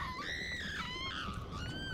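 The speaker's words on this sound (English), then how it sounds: "we get to hear Jeannie's just amazing screams when she gets taken by these things" A female character in the Resident Evil Shadows of Rose video game screams shrilly while being seized, the sustained high cries rising and falling over a steady layer of in-game noise for about two seconds.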